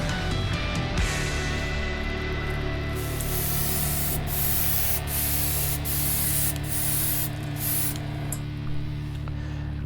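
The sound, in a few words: spray painting a light coat on a model hull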